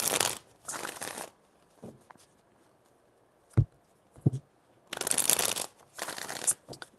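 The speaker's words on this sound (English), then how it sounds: "4 shuffles." Tarot cards are shuffled in several brisk bursts of riffling and sliding, separated by pauses and a couple of soft taps, close up and clear.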